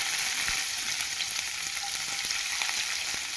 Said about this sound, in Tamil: எல்லாம் வதக்கணும். இப்போ வெங்காயம் போடணும்.